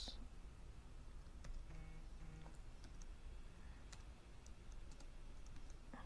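Quiet, scattered clicks of keys being typed on a computer keyboard in a small burst, faint and close, over a low steady background hum.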